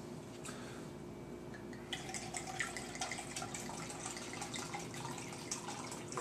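About 3/4 cup of white wine poured into a pan for beurre blanc: a soft, continuous trickle of liquid with faint splashing, close and quiet, building slightly midway, with no talking.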